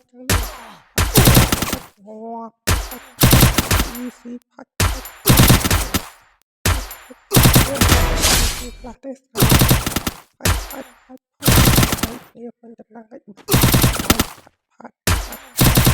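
Automatic gunfire from the Free Fire video game, fired in about a dozen loud, rapid bursts separated by short silent gaps, with no talking over it.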